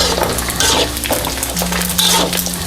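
Loud, dense crackle of pork belly frying in oil for fish-sauce crispy pork, with repeated scraping strokes of constant stirring and light clinks of utensil on pan.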